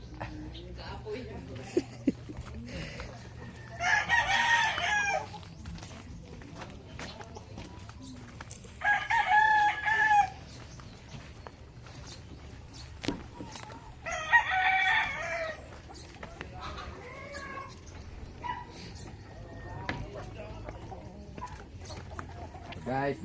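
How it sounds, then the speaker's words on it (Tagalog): A farm rooster crows three times at even intervals, each call loud and ringing, with chickens clucking softly and scattered farmyard noise in between. "Wow, hapit ang manok."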